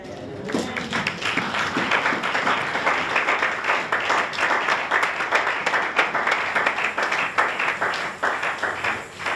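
A church congregation applauding together, a dense sustained burst of many hands clapping that fills the space and holds steady from start to finish.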